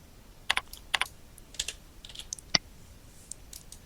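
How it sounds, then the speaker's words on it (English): Keys on a computer keyboard are tapped a few times, sharp isolated clicks spread over a few seconds in a quiet room, close and fairly soft. "Let's try typing a number."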